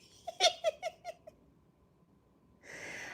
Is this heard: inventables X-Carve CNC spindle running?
no